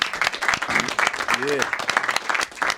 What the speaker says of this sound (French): On t'applaudit, mon cher.